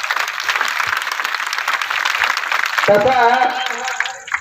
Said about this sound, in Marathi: बघा टाळी वाजवा।